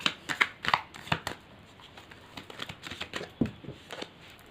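Tarot cards shuffled by hand, a quick papery riffle of many soft snaps close by, followed by a few scattered flicks as cards are drawn, with no talking.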